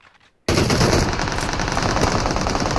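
Gunfire in PUBG Mobile on the Erangel map starts after a brief quiet moment. It breaks into loud, continuous automatic bursts that keep going without pause.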